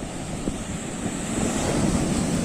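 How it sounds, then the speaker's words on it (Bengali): Ocean surf rolls onto a beach at a full-moon high tide, a steady broad roar of waves and water with wind buffeting the microphone throughout and the surge building slightly louder toward the end. "যেহেতু পুরো ঢেউ তেড়ে আসছে মাঝে মাঝে"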